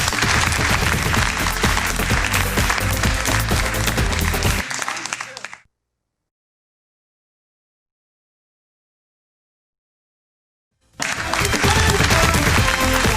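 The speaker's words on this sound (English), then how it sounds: "He sounds like 40 people clapping over there." Loud, dense clapping in a TV studio runs for several seconds, cuts off into complete silence for a few seconds, then returns just as strongly near the end.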